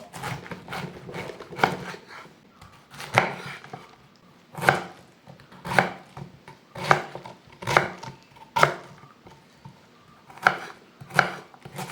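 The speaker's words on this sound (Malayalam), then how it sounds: "ഇനി ഇതൊന്ന് ചെറുതാക്കി അരിഞ്ഞെടുക്കാം" A knife finely chops cabbage on a board in a steady run of close, crisp thuds, about a dozen evenly spaced strokes with brief pauses between them.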